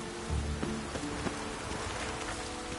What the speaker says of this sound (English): Rain like this would fetch a fortune in Zeri.